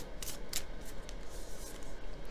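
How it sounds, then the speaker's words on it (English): Tarot cards drawn and handled during a reading, giving a few quick papery snaps and rustles close by, with no talking. "Let's draw some more cards."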